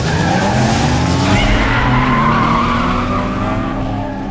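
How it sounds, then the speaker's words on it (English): Tires squeal and skid as a car drifts in Need for Speed Underground 2, a Peugeot in a street race, with the engine droning loud and steady underneath throughout. "Basically, the back of your car will kick out automatically, so your car will want to drift like immediately."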